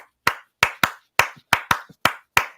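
Eight crisp, close hand claps tapping out a 6/8 bell pattern, played alone with uneven spacing that follows the rhythm's grouping.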